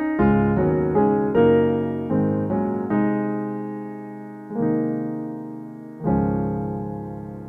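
Gospel piano chords played during a worship-song tutorial, resolving through several sustained, rich chords struck one after another and ringing out, close and clear with no talking.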